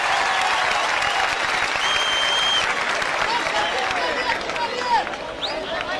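Loud, continuous applause from an award-show audience, with crowd noise and scattered voices mixed into the steady clapping.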